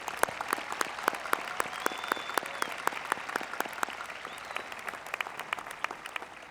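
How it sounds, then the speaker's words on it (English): An audience at a 2015 Shawnee Mission West high school graduation applauds National Merit finalists, with distinct individual claps standing out over a steady, moderately near crowd clapping and no talk. "Please give all of these young people a wonderful applause."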